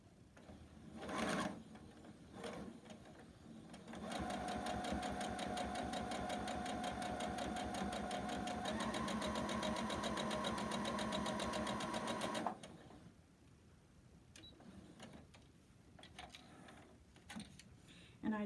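A sewing machine stitches a quarter-inch seam joining white background fabric on a quilt strip set, running steadily for about eight seconds with a slight pitch change midway, then stopping; quiet handling noises before and after.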